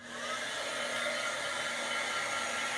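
A hair dryer runs steadily at close range with a continuous, even whooshing roar while drying a craft project at home; no one speaks over it.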